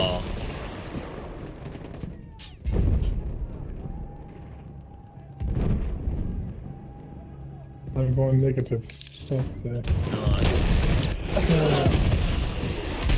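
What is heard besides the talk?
explosions and gunfire in Battlefield 2042 video game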